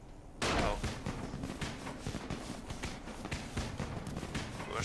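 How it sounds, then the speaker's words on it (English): Firecrackers in Dying Light burst into a rapid, dense string of crackling pops after a brief quiet start, staying loud and close for several seconds. "Let's see how those get distracted by firecrackers."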